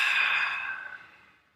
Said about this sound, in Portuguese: Respira bem fundo.